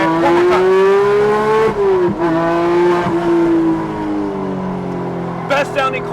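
A DeMan 4.5L Porsche GT3 Touring with a manual gearbox revs hard under an overpass. The loud, close engine howl rises and falls in pitch, with excited voices nearby.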